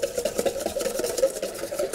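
Egg yolk being beaten with a whisk in a deep bowl set over steam for tiramisu, a steady rapid scraping and rubbing that continues evenly and close by, with no talk over it.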